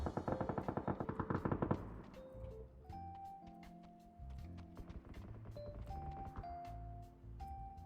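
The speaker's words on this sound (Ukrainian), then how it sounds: "Десь стріляються, типу, я не викупаю де" A rapid burst of automatic gunfire in the video game PUBG: Battlegrounds rattles for a couple of seconds, then gives way to scattered single shots and steady electronic tones.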